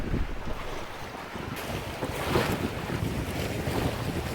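Wind roars across the microphone while big waves slosh steadily around a houseboat in a storm, a loud, constant rush with no voices.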